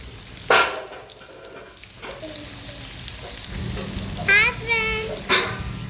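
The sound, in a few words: shallots frying in oil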